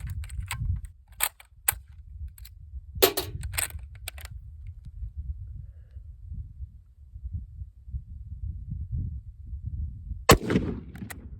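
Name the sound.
gunshots firing Silver Bear .308 steel-case ammunition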